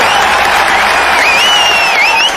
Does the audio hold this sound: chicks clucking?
no